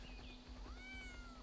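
A cat creature in the video game Ark Survival Evolved gives a couple of drawn-out, rising meows over a steady low game hum, faint and alone without talk.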